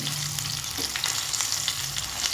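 Potatoes fry in oil left over from frying rohu fish, giving a dense, even sizzle with faint crackles and occasional stirring, steady and close, with no voices.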